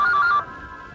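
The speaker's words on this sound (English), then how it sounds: "Then one day the phone rang." A telephone rings with a loud electronic warble, a single burst that cuts off partway through, followed by a quiet room hum with no talking.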